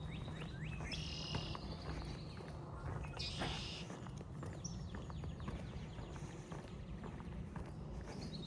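Birds chirp along a scenic neighborhood nature walk, with a few short bright calls rising over a rumbling outdoor background of footsteps and distant traffic.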